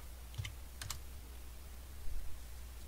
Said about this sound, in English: type exit